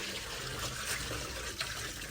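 Water pours steadily into a washing tub during hand laundry in a village, giving a faint, continuous splashing rush with no speech over it.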